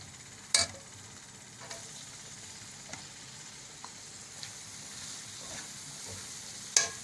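Capsicum being stirred into minced meat and garam masala in a hot pan, a faint steady sizzle with a few sharp scrapes of the spoon, quiet and without talk.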